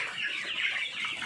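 Broiler chickens, including stunted birds, cluck and chirp together in a quarantine pen, forming a continuous, close, busy chatter with no talking.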